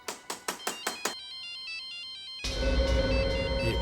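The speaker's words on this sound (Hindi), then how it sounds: "ये सेलफोन किसका बजा?" A mobile phone's melodic ringtone chimes in a quiet, empty bungalow, sounding as a few short repeated notes and then a steadier tone before louder background sound takes over.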